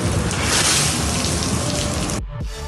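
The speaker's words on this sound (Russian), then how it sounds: "Смотрите, как подрядчик справляется с водой на крыше. Просто льет воду из ведер." Water poured from buckets off a leaking apartment roof by a contractor, a loud continuous splashing gush like heavy rain that stops abruptly near the end, leaving a quieter dripping tail.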